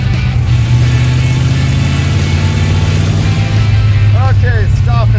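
A Plymouth Road Runner built on a C-body, with its transmission held in by a ratchet strap, drives along with a loud, steady low engine rumble, and a voice talks over it toward the end.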